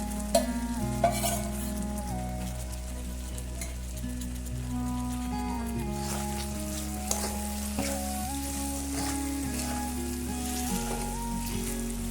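Fried potatoes are stirred in a hot pan of oil for a spicy Bengali mukhi (taro) besan dish with Kashmiri chilli. A steady sizzle runs throughout, broken by scraping stirs and a few louder clinks, over soft background music.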